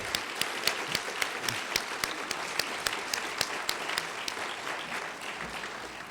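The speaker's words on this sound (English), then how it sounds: "I just want to give a big round of applause to the judges." An audience at the Publishing Triangle Awards 2012 ceremony at The New School applauds the judges, with steady, fairly loud clapping and a few sharp individual claps standing out before it gradually thins toward the end.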